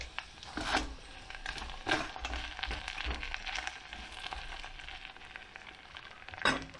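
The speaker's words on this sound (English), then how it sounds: "my buddy's having steak and potatoes, which I need to stir" Steak and potatoes frying in a pan at a hot tent campsite, a steady sizzle with several scraping stirs and crinkly bursts spread across the clip.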